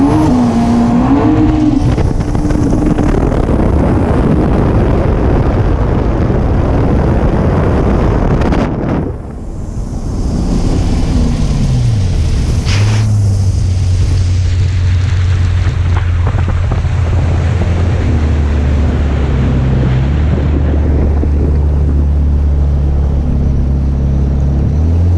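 Project Ford Taurus SHO accelerating hard at roughly 80 mph, a loud, steady engine roar with rising and shifting pitch, heavy wind rush over the microphone and a brief dip partway through, no talking.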